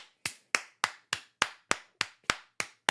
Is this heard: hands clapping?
yes